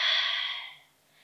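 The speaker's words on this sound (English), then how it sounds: "And tucking the chin, rounding as you exhale." A slow, steady exhale during a yoga cat-cow stretch, a soft airy breath that fades out over about a second, close and alone.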